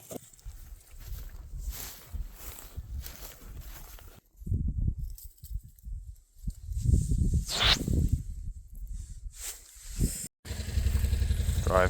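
A side-by-side utility vehicle drives along Newfoundland hunting trails, its engine rumbling up and down in surges with clattering bumps from the rough ground.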